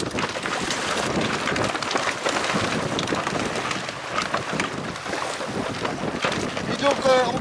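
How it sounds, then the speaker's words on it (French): Gusty wind buffets the microphone steadily while a catamaran is launched at sea, a constant broad roar with water splashing around the hull. "Ça va être une bonne navigation parce qu'il y a un vent rafaleux."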